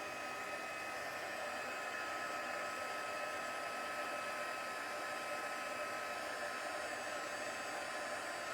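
A heat gun blows steadily for several seconds, melting embossing powder on a handmade card, a constant broadband hot-air whir that holds at the same level from start to finish with no talking.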